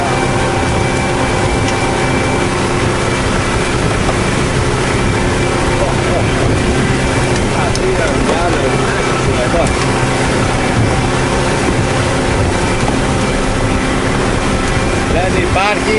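Strong wind buffets a coastal shore with little surf, a loud, steady broadband roar that stays dense and unbroken throughout, with no clear talk standing out.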